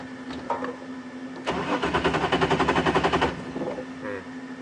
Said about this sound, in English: Engine dies like that.